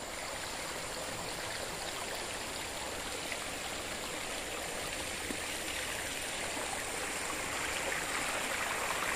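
A clear stream flows steadily beside cleared brush, a constant broadband rush and babble of water, moderately close and even in level throughout, with no voices.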